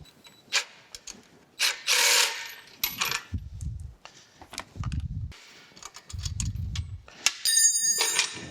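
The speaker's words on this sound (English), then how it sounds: "See, I'm going to need a wrench to hold that nut on the bottom there." Wrench work loosening a nut underneath a Monarch 10EE lathe, with metallic clinks, scrapes and ratchet-like rattles in scattered bursts, close and fairly loud, broken by pauses.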